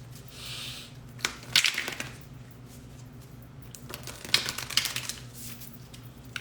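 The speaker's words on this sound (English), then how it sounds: "I'm gonna pull a card" Card pulled from a Living Reiki Healing Cards deck, two bursts of close shuffling and riffling card clicks separated by a quiet pause, no voices.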